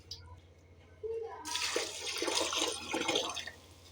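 Water poured from glasses into a pot of rice for vegetable rice, a continuous splashing gush that starts after a quieter opening with a faint voice.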